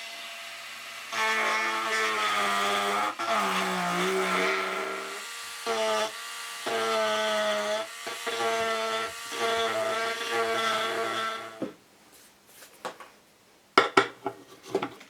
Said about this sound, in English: So I got to Dremel this out, kind of cut it down a little bit so it goes flat.